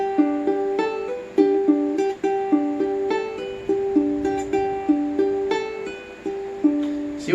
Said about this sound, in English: when a hammer-on is done correctly, it will sound a little something like this